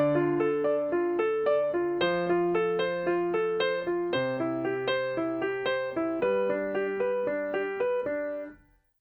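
Pop piano chords played with both hands, a steady bass note under repeated right-hand chords changing every two seconds or so, clear and close, ringing out and fading at the end.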